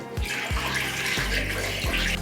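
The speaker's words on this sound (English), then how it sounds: "Let's add some water to these bad boys." Water poured into a vase holding a fresh flower arrangement, a steady close splashing and gurgling stream that runs without a break and holds at about the same loudness.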